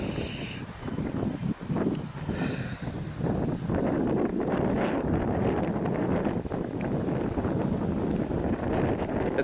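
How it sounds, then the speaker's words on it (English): Strong wind buffets the microphone outdoors on the Hogsmill Nature Reserve trail near Ewell, a steady low roar with gusty rumbles throughout and no voices. "Hopefully you can hear me over the wind."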